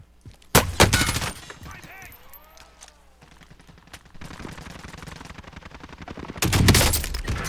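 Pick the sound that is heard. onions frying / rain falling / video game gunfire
video game gunfire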